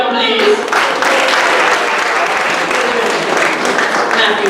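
An audience claps enthusiastically, a dense, steady burst of applause that continues throughout at close range.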